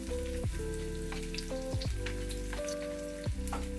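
Onion cubes and capsicum frying in a pan for Maggi manchurian, a steady crackling sizzle running throughout beneath a prominent steady tonal background hum with shifting pitches.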